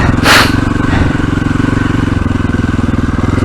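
Motorcycle engine just shifted down into third gear on a slippery off-road stretch, throbbing steadily and close with a rapid even pulse, a brief louder burst near the start.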